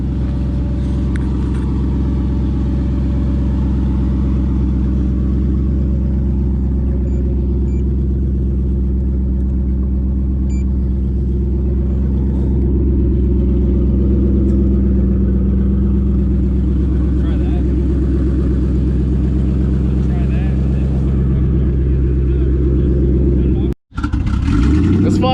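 A 900HP twin-turbo Ford Mustang drag car idling loudly nearby, a deep steady rumbling engine note held throughout with a brief cut near the end.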